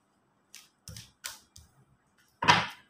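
Tarot cards being drawn and laid out from a deck: a few short, soft papery flicks and slaps spaced about half a second apart, then one louder, fuller card slap near the end, close up in a quiet room.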